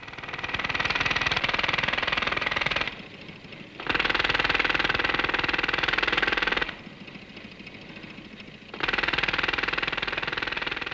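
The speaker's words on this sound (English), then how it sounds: "this compressor is capable of 72 cubic feet of air a minute" A loud, rattling engine-driven air compressor on a Land Rover, rated at 72 cubic feet of air a minute, runs in bursts, cutting back to a lower idle twice before roaring up again.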